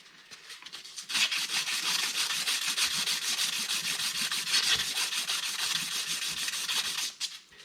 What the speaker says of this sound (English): I will sand this piece here